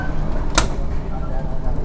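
On a moving passenger train, a carriage door closes with a single sharp bang near the middle, set against a constant low rumble of the coaches rolling along.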